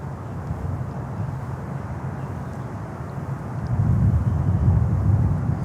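A Global X Cargo aircraft at Miami airport gives off a steady, distant low engine rumble that swells louder over the final couple of seconds.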